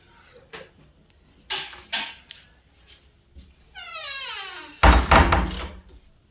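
A door at home on a cold day swings shut, a brief creak sliding downward before a solid, loud thud, with soft knocks and household noises around it and no talking.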